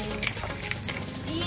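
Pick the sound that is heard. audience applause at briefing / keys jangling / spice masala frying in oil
keys jangling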